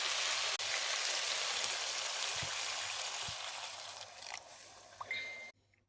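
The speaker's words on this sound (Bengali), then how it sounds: "ফুলকপি সিম কষানো শেষ, এখন পানি দিয়ে দেবো।" Water poured into a pan of cauliflower and bean curry, a loud hissing rush that gradually eases, with a few clinks near the end before it cuts off into near silence.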